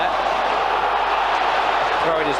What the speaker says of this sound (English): Good volume of noise from the crowd, though, wasn't it?